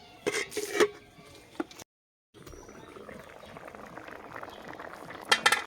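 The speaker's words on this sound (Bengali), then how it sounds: "হলুদ দিয়ে একবার ফুটে গেছে" Dal with turmeric bubbling in a pot: a soft, steady burble with a brief gap, then continuing simmer, plus a few louder clinks or scrapes at the start and end.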